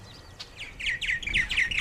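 Purple martins chirp in a quick run of bright, close, repeated tweets, about eight calls in under two seconds, each sharp and downward-sliding, over quiet outdoor background.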